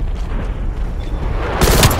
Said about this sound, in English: Deploy napalm strike on my grid